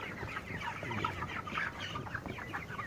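Broiler chickens at twenty-eight days old inside a poultry coop, a quiet busy chorus of overlapping clucks and chirps from many birds, steady throughout with no one talking.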